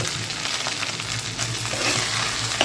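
Food stirred in a pan after ghee is sprinkled over it, a steady loud frying hiss with soft scraping strokes layered on top, heard up close.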